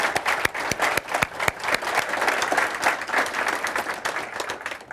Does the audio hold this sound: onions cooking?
no